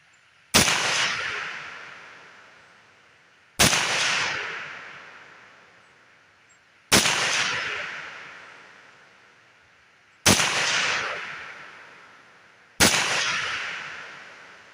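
Five sharp rifle shots from a Universal 30 carbine at an outdoor range ring out at steady intervals of about three seconds, each crack followed by a long fading echo.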